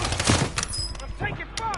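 Rapid bursts of automatic gunfire in a Rebirth Island battle-royale shooter game, sharp cracks repeating close and loud with faint game voice chatter mixed in.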